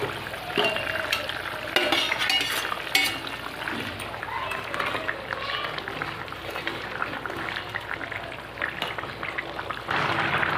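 Eggplant pieces tumble into a simmering rohu fish curry, and a steady sizzle and bubbling follow with scattered clinks and scrapes of stirring throughout.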